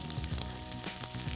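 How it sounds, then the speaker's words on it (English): Frozen vegetables sizzle and crackle in a hot pan, a soft steady frying hiss with small pops, fairly quiet and brief. "Listen to that sizzle."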